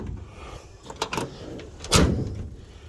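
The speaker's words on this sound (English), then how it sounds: "Door shut pretty good." A Chevy LS truck door shuts once with a solid thump, preceded by a couple of fainter clicks and rattles from the latch and cab, with no talking.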